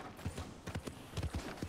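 Horse hooves clip-clop in Red Dead Redemption 2, a run of soft, fairly even hoofbeats heard close and alone, with no talk over them.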